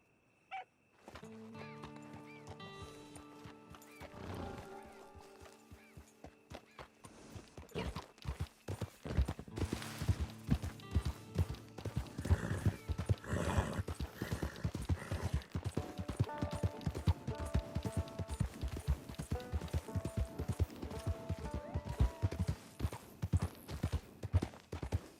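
A horse's hooves clip-clop in a rapid, steady rhythm in Red Dead Redemption 2, with a neigh and game music layered over the hoofbeats, loud and close throughout.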